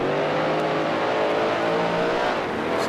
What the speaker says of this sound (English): this weird sand sound that I'm hearing quite a bit from the engine